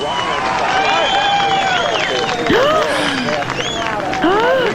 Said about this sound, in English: I'm beginning to hear a cheer or two now.